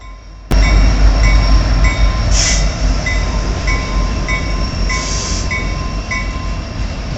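A Canadian National freight train rumbles past a crossing in Battle Creek, Michigan, loud and close, with steady wheel and car noise and periodic clacks over the rails.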